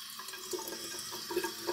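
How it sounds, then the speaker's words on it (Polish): Cold tap water runs steadily into a bathroom sink while a face is rinsed after a wet shave, a close, continuous hiss and splash with small irregular splashes and no talking. "Zawsze zmywam zimną wodą,"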